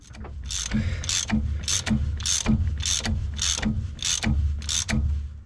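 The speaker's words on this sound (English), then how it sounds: "these bolts here need to be torqued down to 61 foot-pounds" A ratcheting wrench tightens the CV axle bolts on a second-generation Toyota 4Runner, giving about nine steady, evenly spaced bursts of metallic clicking, close and fairly loud, with no talk.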